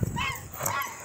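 Dogs playing roughly with a puppy give off short yips and a whimper at close range, with a loud burst at the start and steady noisy scuffling after.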